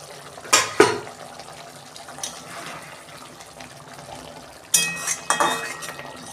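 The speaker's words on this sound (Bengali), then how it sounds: "দেখুন বন্ধুরা, ঢাকনা খুলছি।" A metal lid comes off a cooking pan of tengra fish curry with sharp clanks and scrapes at the start and again later, amid quiet kitchen handling and soft sizzling.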